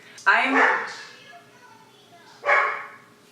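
Two short bursts of dogs barking while playing, about two seconds apart, close by and fairly loud, with quieter yips trailing after the first.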